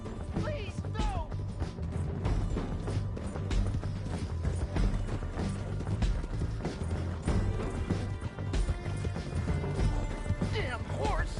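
Horse hooves in Red Dead Redemption 2 pound in a steady, busy rhythm, mixed with game crashes and clatter while characters talk over the top.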